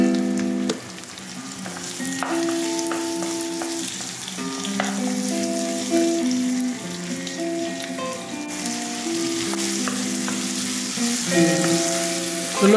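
Tomatoes sautéing in a pan with star anise for a soy and vinegar squid dish, a steady close sizzle and crackle of frying with occasional stirring scrapes, heard without talk.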